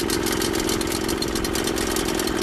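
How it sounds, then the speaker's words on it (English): The small engine of a PC500 paddock cleaner runs after being started with the choke on, a steady buzzing idle close by with a fast, even pulse and no talking. "When the engine is running, turn the choke off."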